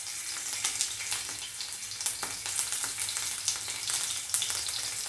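Crushed garlic dropped into hot oil in a kadai with cumin and mustard seeds, frying with a steady close sizzle, crackle and spit, and small pops scattered throughout.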